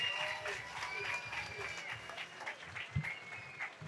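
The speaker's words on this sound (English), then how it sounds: "give them a round of applause for laying it down" Crowd applause at a women's fight night event after a three-round bout, a dense clatter of clapping with a ring announcer's voice speaking over it.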